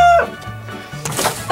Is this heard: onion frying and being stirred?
no